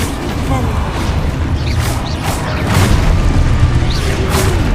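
Spell blasts from Hogwarts Legacy go off in rapid succession: Confringo, Expulso and Depulso. They come as repeated booming impacts and whooshes over a dense, loud wash of game combat noise.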